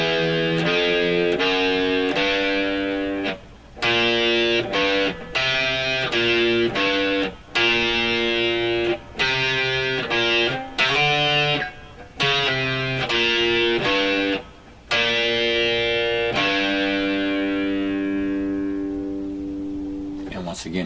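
Distorted electric guitar plays a riff, loud and up close, with chopped, rhythmic note phrases and short gaps, ending on a long ringing note.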